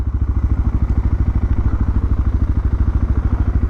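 A motorcycle on a long road ride, its engine throbbing in a steady, fast rhythmic pulse, loud and close with no voices.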